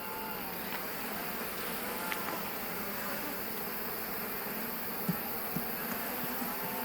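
Honey bees buzz around an open hive full of swarm cells, a steady close drone of many insects with occasional louder passes near the ear, no voices.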